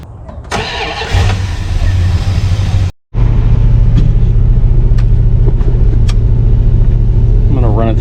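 A 1974 Plymouth parts car that sat for 20 years, engine running loud and steady as it warms up, a continuous low rumble broken by one brief dropout, with voices talking over it.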